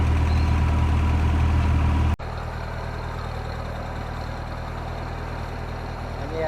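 A tractor engine drones steadily as it pulls a plow through a garden furrow, throwing the dirt back; a brief louder burst gives way to an even, low, continuous engine hum.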